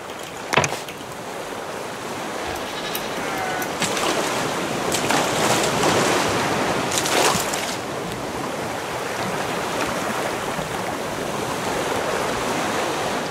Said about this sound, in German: Wieso haben wir jetzt schon wieder so einen Seegang?